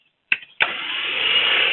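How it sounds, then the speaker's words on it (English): A DC motor driven by an open-source AC controller spins up after two sharp clicks, settling into a steady, loud, high-pitched whine that swells slightly as it runs. "I am going to start up the DC motor"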